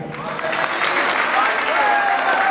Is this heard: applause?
yes